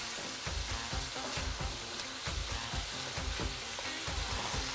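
Prosciutto and capsicum frying for prawn fried rice, stirred in a hot pan: a steady, close sizzle runs throughout with regular scraping knocks of the stirring utensil, and no talk.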